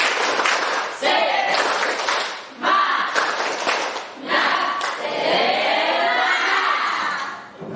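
A class of students performs a rhythmic spirit clap in a biology lesson, bursts of group clapping and shouting in short patterned phrases with brief pauses between, loud and close.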